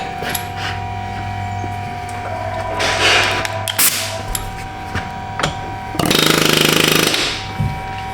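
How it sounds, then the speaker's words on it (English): Bursts of a pneumatic air hammer rattling rapidly against metal, a couple of short hits and then a longer loud burst, amid workshop clatter. "Get your air hammer again."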